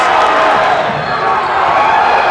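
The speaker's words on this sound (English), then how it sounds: "What a thunderous applause." A crowd at an indoor volleyball game applauds loudly and continuously, a dense roar of clapping and cheering that fills the hall, with a commentator talking over it.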